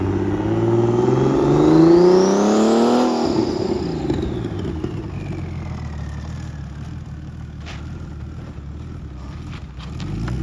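Turbocharged BMW E36 engine revs loudly and climbs sharply, then drops back and settles into a steady idle with a faint whistle.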